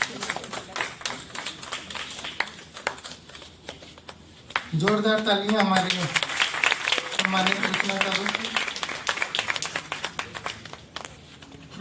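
Applause and clapping from an audience at an honour ceremony, where shawls and mementos are presented to honourees at a literary and cultural event, with dense taps running throughout and a speaking voice rising over the clapping partway through.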